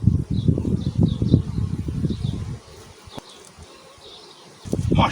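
Honeybees and drones hum around a 24-frame hive, a close buzzing drone with low wingbeat pulses that fades midway and swells back near the end.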